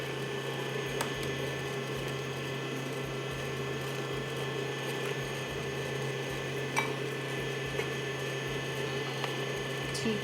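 An electric mixer beats butter, sugar and egg for a Christmas cake batter, giving a steady mechanical whir with a ratcheting, gear-like rattle that runs continuously at low volume with no talking.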